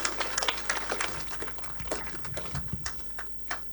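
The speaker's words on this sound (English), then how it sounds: "Let us clap and appreciate them." Scattered clapping from an audience at a university graduation ceremony, sparse and uneven hand claps at moderate distance that gradually thin out.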